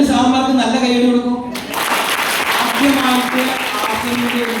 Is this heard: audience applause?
yes